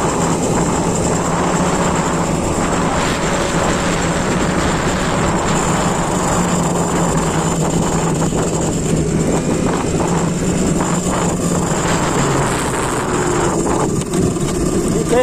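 A home-built Nilox 3600-watt chain-drive electric goped rides along a road, giving a loud, unbroken roar of wind and motor whine that holds steady throughout.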